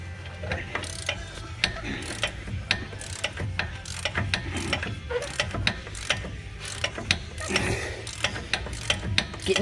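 A wrench ratchets in quick, uneven bursts of clicks while loosening a rusted ball joint on a 2011 Ford F350. The clicking is close and fairly loud over a low mechanical hum, with no talking.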